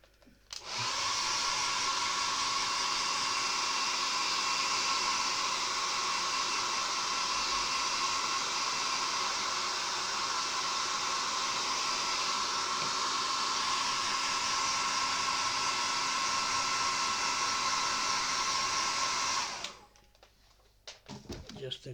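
A hair dryer blows steadily and loudly on a freshly painted 1/72 Revell Sherman M4A1 model tank, a continuous whooshing roar for about twenty seconds before it cuts off.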